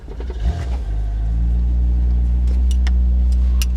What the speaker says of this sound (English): Oh, this engine is fabulous.